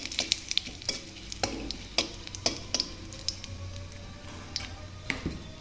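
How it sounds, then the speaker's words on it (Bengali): Whole cumin, bay leaf and dried red chilli sizzle in hot oil in a kadai, a soft steady fry punctuated by sharp crackles and stirring clicks, close and alone. "কড়াইতে খানিকটা তেল দিয়ে তেলটা গরম করে নিয়েছি, আর এর মধ্যে আমি ফোড়ন দিয়ে দিয়েছি গোটা জিরে, তেজপাতা, শুকনো লঙ্কা"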